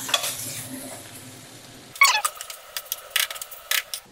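Chicken barbecuing over heat is stirred with a utensil, a soft steady sizzle first, then a series of sharp scraping and clinking stirs.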